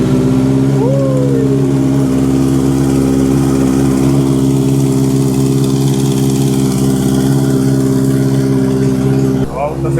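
A 2023 Honda CB650R motorcycle fitted with a newly installed full Black Widow exhaust system idles close by with a deep, even, continuous rumble and a faint flutter, holding steady throughout.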